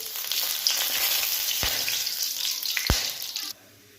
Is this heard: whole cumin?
yes